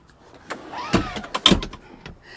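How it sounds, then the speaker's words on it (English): Second-row seat of a Tesla Model Y seven-seater sliding back along its rails, giving a few close mechanical clunks and a whirring scrape in separate bursts over about two seconds. "As you can hear, it makes a lot of mechanical sounds and everything as you're doing it."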